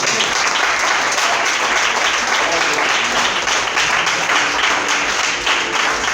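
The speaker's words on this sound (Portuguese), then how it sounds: "Você pode aplaudir o Senhor Jesus?" Church congregation applauding during a sermon, a dense, steady wash of many hands clapping that fills the whole stretch at full, even loudness.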